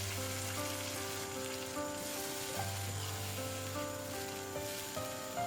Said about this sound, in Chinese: 然后倒入啤酒进去。 啤酒呢要能刚好淹没鸡翅就行。